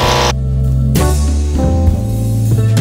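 A Casabrews 5700GENSE all-in-one espresso machine pulls a double shot with a loud, steady pump hum and strong low tones that shift in pitch partway through, running alone without talk.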